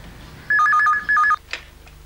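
A telephone rings indoors with two bright electronic warbling bursts in quick succession, loud and close, followed by a short rustle.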